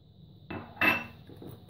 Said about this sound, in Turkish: Tekrar çırpıyorum.